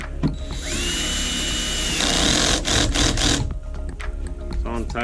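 A power driver turns a big Phillips screw on a boat fishfinder mount in a few close, loud whirring bursts with short pauses between them.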